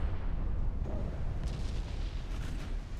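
Warship hits from 21-inch torpedoes in the naval combat game Ultimate Admiral Dreadnoughts, heard as a steady low rumbling boom with a dull roll of distant detonation, fairly faint and continuous throughout.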